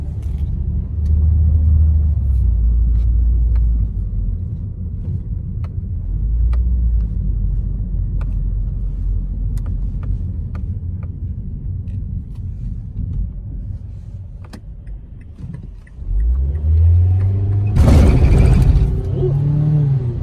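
A 2008 Mazda 3 engine rumbles loudly from inside the car, dropping briefly before revving up again as it accelerates up to speed, with a rising whir near the end.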